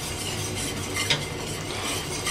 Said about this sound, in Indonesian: Kita aduk terus, jangan sampai menggumpal ya.